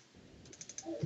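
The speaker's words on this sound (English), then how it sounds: "What are you typing?" Faint keyboard typing, a few soft clicks and taps at low level, with a slightly louder thump near the end.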